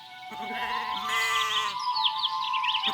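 Goats grazing a little way off let out a couple of drawn-out wavering bleats, fairly close and clear, with faint outdoor ambience and no talk.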